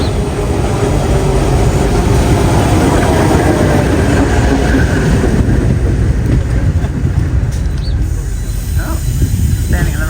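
Train pulling into a station in Portugal, a steady loud rumble and rolling noise with brake hiss near the end, continuous for the whole stretch with no one talking.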